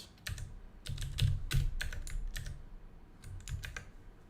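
Computer keyboard keys typed in quick irregular bursts, close and fairly quiet, with short pauses between clusters of clicks.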